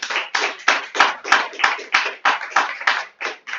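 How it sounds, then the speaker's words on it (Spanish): Rhythmic clapping from a small audience at a university lecture closing a conference on Pan-Amazonian border territories, a steady run of hand claps close by with no voices. "Un aplauso para Bianca"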